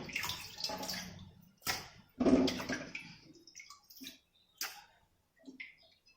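Water running off freshly washed surmai fish, heard as close, intermittent splashes and trickling bursts separated by short quiet gaps.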